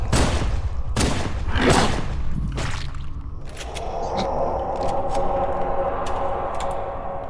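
Gunfire in Halo 2 from jetpack-flying Elites, several sharp loud shots in the first seconds, then a rapid crackling volley of smaller pops and ticks over a steady battle hum.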